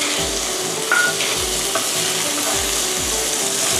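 Shrimp sizzle steadily in a hot pan with garlic and chili for spicy drunken spaghetti, with a continuous loud frying hiss and periodic scraping thumps as a utensil stirs them, and no talking.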